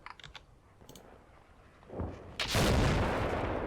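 A 155 mm artillery round fired at a BTR in the video game Combat Mission, a few faint clicks before a building rumble that breaks into a loud, sustained roaring blast.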